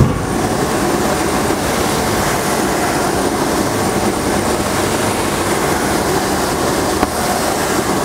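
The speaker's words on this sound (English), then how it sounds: "The suction motor is 4 HP and 3 kilowatt. You see now power of suction." The 4 HP, 3 kW suction motor of a gold jewelry polishing machine runs with a loud, steady rushing drone of moving air and motor hum, continuous from start to finish with no talk.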